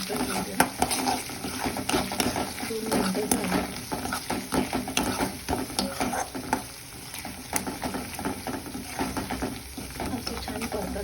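Onion with ginger garlic paste stir-frying for palak bhaji gives a continuous crackling sizzle with frequent spoon scrapes and clatter against the pan, irregular and close, with occasional brief voice sounds.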